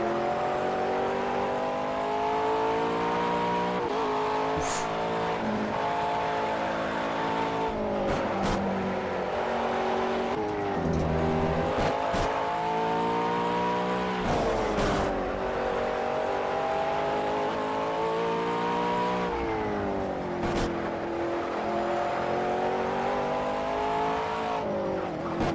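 A 2003 Cup stock car in Project CARS revs hard near 9500 rpm, a loud, continuous engine drone. Pitch rises and falls in long sweeps between brief lifts, with occasional tire squeal and no talking.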